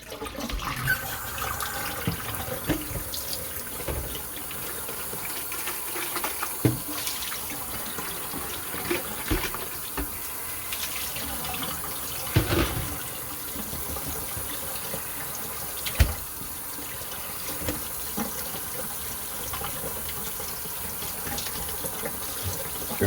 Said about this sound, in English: I'm going to rinse this out in real time so you can see how quick and easy it really is.